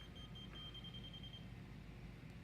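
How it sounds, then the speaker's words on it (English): A laser level receiver gives a steady, faint high beep tone for about a second and a half, then falls silent over a low background hum. "As we go down, we are looking for the laser and we get a beeping sound."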